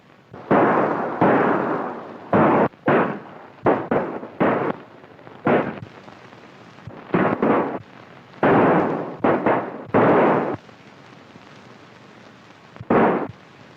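Gunshots ring out in a 1939 western film, a long irregular volley of loud, sharp reports, some single and some in quick pairs, separated by brief gaps and ending with one isolated shot.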